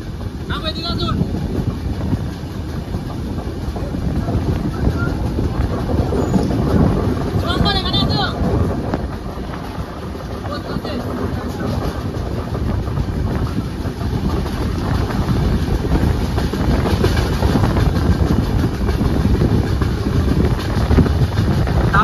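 The Duronto Express runs past Kolaghat, heard from inside as a constant loud low rumble with wind noise and occasional higher squeals and rattles. A voice talks at times over it.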